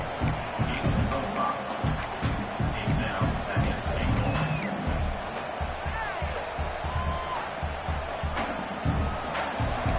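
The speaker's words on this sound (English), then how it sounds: "This crowd is trying to inspire this defense to make a big red zone stop." Stadium crowd noise in College Football 26 during a red zone defensive stand, a dense, roaring wash of cheering that swells and stays loud throughout, with no clear words.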